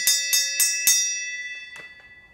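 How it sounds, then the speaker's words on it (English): A bell rung by hand in a workshop where an LS engine is being torn down: four bright, evenly spaced strikes close by, each ringing on, then a long shimmering decay with a couple of light taps. "you want to ring the bell for me since I'm going to end the video here?"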